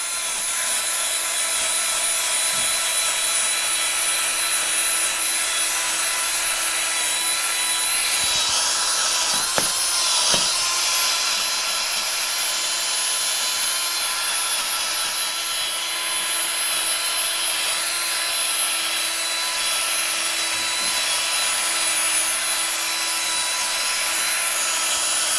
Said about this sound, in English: simply take your wire wheel and just go to town